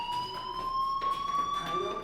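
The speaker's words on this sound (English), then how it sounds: "do you hear that fire alarm?" A fire alarm in the video game Life is Strange sounds as a steady, piercing electronic tone with slight pitch drift, continuous and fairly loud over a muffled background.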